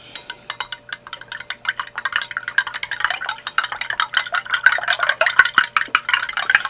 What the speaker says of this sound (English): I'll just stir this up real quick.